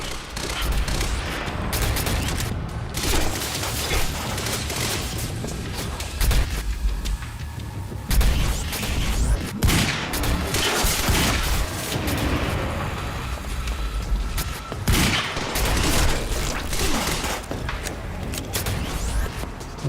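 Tactical SMG fire in a Remedy action game, dense rapid bursts of gunfire with booming impacts and explosions layered into a loud, continuous battle din.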